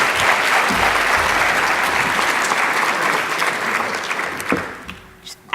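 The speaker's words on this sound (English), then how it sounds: "How about another round of applause for all of our award winners?" Sustained, dense applause from an audience honoring award winners at an annual celebration and awards event, loud and steady before tapering off near the end.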